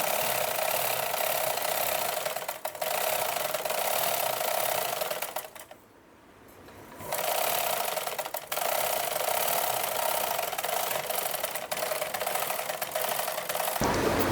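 A sewing machine stitches a blouse in a steady, close whirring run that drops out for about a second midway, then resumes and continues until it stops near the end.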